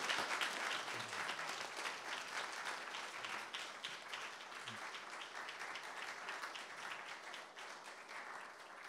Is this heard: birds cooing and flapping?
no